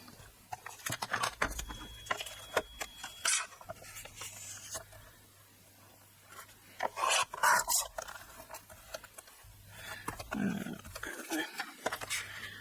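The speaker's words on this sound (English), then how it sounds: "Now I'm just going to trim my sentiment down." A paper trimmer slices a card sentiment with several short, close raspy strokes of the blade, separated by quieter handling and rustling.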